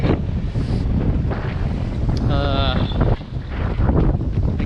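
Strong wind buffets the microphone while big waves of eight to ten feet roll and wash around a boat at the far end of a lake, a loud, constant rush with someone briefly speaking.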